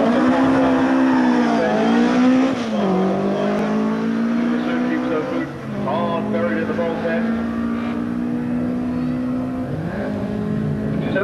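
A Delta T8291 race car runs at the Brighton Speed Trials, its engine droning loud and close in a steady, harmonic-rich roar, with pitch dips and surges around gear changes throughout the run.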